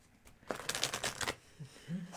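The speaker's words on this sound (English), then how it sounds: "And the cards are just the right size for shuffling." An animal-themed tarot card deck of thin, durable cards being shuffled in a short riffling burst of papery flutters, fairly close, then trailing off into quieter handling.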